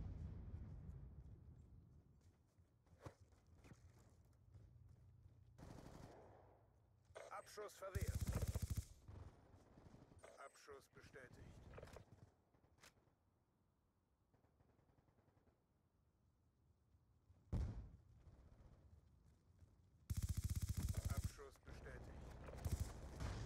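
Automatic gunfire from the Call of Duty video game comes in short, faint bursts and a few louder volleys over a low background of game noise.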